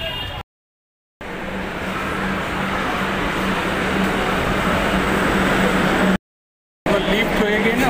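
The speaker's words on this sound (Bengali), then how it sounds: "এই জায়গাটা সবসময় জ্যাম হয়, কিন্তু আজকে একটু বেশি জ্যাম হচ্ছে" Congested road traffic idles and creeps in a jam near Tollygunge metro station in Kolkata, giving a dense, steady engine drone broken by two short dropouts, with faint voices in the background.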